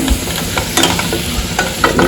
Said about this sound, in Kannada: ಸಾಂಬಾರಿಗೆ ಒಗ್ಗರಣೆ ರೆಡಿ ಆಗ್ತದೆ